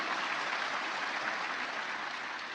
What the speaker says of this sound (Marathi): एकदा जोरदार टाळ्या झाल्या पाहिजे पालकवर्गासाठी